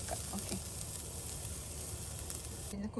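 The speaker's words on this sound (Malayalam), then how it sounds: "നമുക്ക് തേങ്ങ ഒന്ന് വറുത്തെടുക്കാം" Grated coconut roasting in a hot pan for a traditional Onam sadya erissery, a continuous close sizzle with occasional scraping stir sounds and faint talk in the background.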